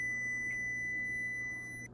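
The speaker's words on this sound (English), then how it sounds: "All right, that was the timer for the dough" A kitchen timer signalling that pie dough for a vegan pumpkin pie is ready, sounding as a steady high electronic tone that holds for nearly two seconds before cutting off, with no voices.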